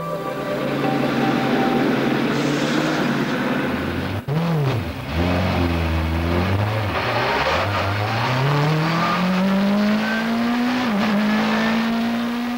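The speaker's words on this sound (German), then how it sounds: "Der Klang dieses BMW ist und bleibt einfach unbeschreiblich" A 2003 BMW 320 race car with a Judd V8 engine screams up a hillclimb course, loud and close, revving hard through several gear changes with rising whining pitch sweeps and a sharp crackle as it accelerates away.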